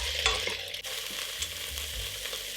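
Prawn heads and shells stir-fry in oil in a pot over low heat, with a steady close sizzle and a few scraping stirs, no voices.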